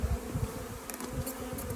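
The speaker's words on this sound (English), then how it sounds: "I apologize for the camera work when I have bees landing on me." Honey bees swarm around a beekeeper moving a branch, a faint, steady insect buzz hanging in the air throughout with a few brief louder whirs as individual bees pass close to the microphone.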